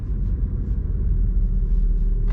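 A car engine rumbles low and close as the car slows while gently braking to a stop, a deep steady drone without voices.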